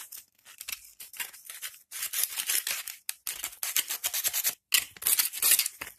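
Sandpaper rasps in short, close bursts against insulated coating on speaker crossover wire, a dry scratchy scrubbing repeated in quick strokes with brief pauses between.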